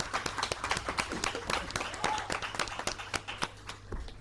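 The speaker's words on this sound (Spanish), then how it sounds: "pido un aplauso para él y para todos los Gerard" Audience applause at a conference on access to justice for children with intellectual and psychosocial disabilities, sparse, distinct claps from a modest crowd at moderate distance, slowly thinning out.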